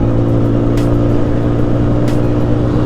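Haojin Rico HJ150-28 motorcycle engine held at high revs near 8,000 RPM while riding, a steady, loud, buzzing drone with constant engine tone and rushing road noise.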